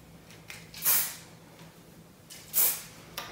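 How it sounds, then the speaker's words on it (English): Hairspray misted over freshly curled hair in two short, close hisses about a second and a half apart, with a fainter third puff at the end and quiet room tone between bursts. "And I'm just going to spray them for the time being."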